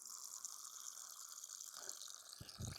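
Water pours steadily for a dog during a woodland trail run, a faint continuous trickle that ends with a short splash.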